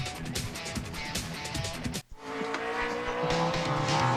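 A NASCAR stock car roars through a qualifying lap at Sonoma in the 2007 Toyota/Save Mart 350, its engine loud and close, with squealing tires. The sound breaks off abruptly midway, then the engine drones on.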